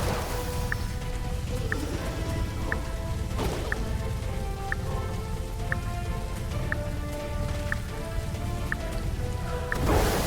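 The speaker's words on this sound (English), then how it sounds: "This rain is harmless to our base, but it decreases solar panel efficiency until it stops." Steady rain falls in the video game The Riftbreaker, a constant close hiss of drops on surfaces, with a faint, evenly spaced beep repeating roughly every second.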